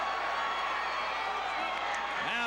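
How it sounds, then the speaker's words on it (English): Crowd roaring and cheering at a Muay Thai fight in a casino arena in Highland, California, a dense, steady wash of distant voices with scattered whoops throughout. "Now the crowd is roaring here in Highland, California."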